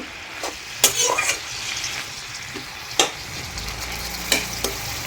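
Food being stirred and mixed in a pan over a steady sizzle, with a few sharp utensil scrapes and knocks against the pan at irregular moments, all close by and with no talking.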